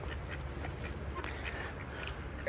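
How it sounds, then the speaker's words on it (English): Ducks quacking beside a carp fishing lake, several short scattered calls at moderate distance over a steady outdoor wind and water hiss. "I got fucking 6 ducks now, Jack."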